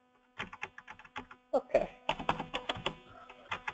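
Rapid bursts of keystrokes clatter on a computer keyboard close to the microphone, forming an uneven typing rhythm, with a brief spoken word partway through.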